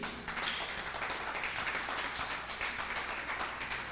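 Steady applause from a church congregation during a sermon, a dense continuous wash of many hands clapping that holds at an even level for the whole stretch.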